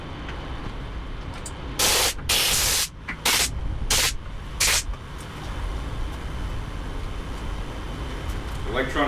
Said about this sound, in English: Electronic contact cleaner, 50 state compliant.